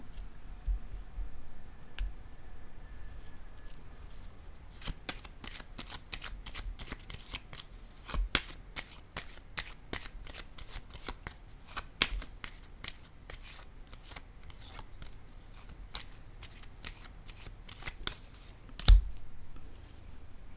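Tarot cards are shuffled, flicked and laid down at a close distance. Dense runs of quick soft clicks and snaps play against faint background noise, and one firmer tap comes near the end, with no talking.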